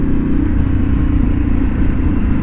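Harley-Davidson Pan America ST motorcycle engine idling nearby with the stock catalytic converter still fitted, a loud steady low rumble throbbing without a break.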